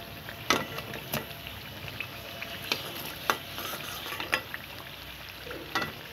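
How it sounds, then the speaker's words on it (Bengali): Nimki pastries deep-frying in hot oil, a soft steady sizzle broken by several sharp clinks and stirring knocks spaced a second or so apart, close by with no voices. "বন্ধুরা এভাবে আমরা সবগুলো নিমকি ভাজি করে নিব।"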